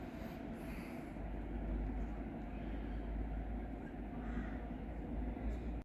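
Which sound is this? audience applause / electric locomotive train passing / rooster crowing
electric locomotive train passing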